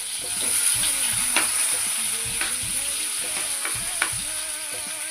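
Potatoes frying in oil with nigella seeds and green chili, a steady close sizzle with intermittent stirring scrapes and clinks.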